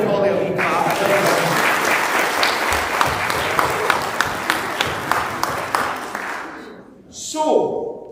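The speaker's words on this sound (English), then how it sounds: "Let's give Holly a wee clap." An audience claps for a participant, with dense applause of many hands that stays full and steady for several seconds before it fades out. A brief voice follows.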